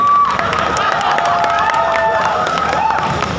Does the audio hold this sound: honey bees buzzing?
no